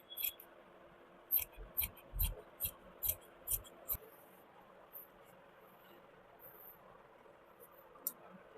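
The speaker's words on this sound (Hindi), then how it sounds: "अभी लंबाई को काट के अलग कर लेंगे।" Scissors cutting fabric for a salwar: a quick run of about eight crisp, close snips in steady rhythm, then a quiet pause and one more faint snip, with no talking.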